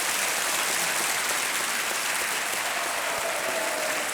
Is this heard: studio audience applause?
yes